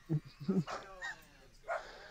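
Dogs bark in short bursts, two low barks up front then a higher yelp and whine, fairly close and mixed with speech.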